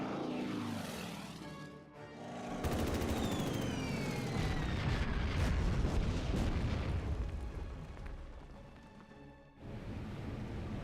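Heavy explosions from enemy shelling in the wargame Order of Battle: Sandstorm, a dense, loud rumbling barrage with booming blasts and whistling overhead that dips briefly near the start and end, no talking.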